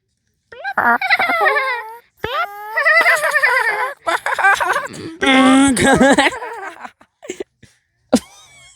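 A person imitating a chicken clucking, a series of voiced cackling and squawking bursts with short pauses between them, close and loud.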